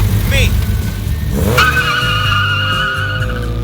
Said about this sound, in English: Somebody order a race car?